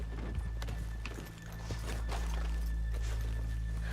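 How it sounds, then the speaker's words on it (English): Horses' hooves clip-clop along a town street in Red Dead Redemption 2, a loose series of soft thuds over a constant low rumble and faint background ambience, slowing briefly midway before resuming. "let's leave the horses here off the main drag"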